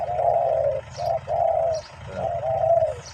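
A spotted dove coos close by in the morning in low, deep, drawn-out phrases, a few repeated hoots with short pauses between them, faint chirps in the background.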